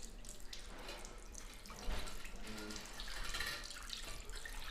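Liquid poured out of a pickle jar, a steady splashing trickle into a sink at close range, continuous and moderately quiet with a brief louder surge partway through.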